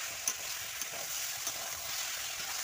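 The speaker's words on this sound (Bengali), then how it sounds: "ভালো করে নেড়ে চেড়ে কুমড়োটাকে সিদ্ধ করে নিতে হবে।" Ash gourd pieces sizzle steadily in hot oil in a pan while being stirred, with a few soft scraping knocks of the spatula standing out over the continuous frying hiss.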